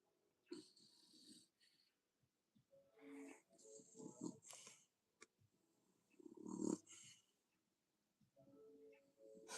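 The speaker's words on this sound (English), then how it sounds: "She's snoring so loud right now." A pet cat snores in quiet, irregular wheezy snorts and rasping breaths, some snuffly and pig-like, heard close and faint with pauses between.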